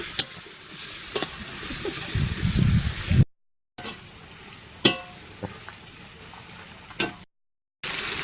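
Mandi masala is stirred in a frying pan, with soft sizzling and a few scraping clinks of the spoon, broken by two brief silent gaps.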